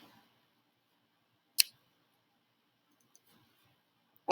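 A computer keyboard tapped to enter a number, giving two isolated sharp clicks spaced a few seconds apart in an otherwise quiet room.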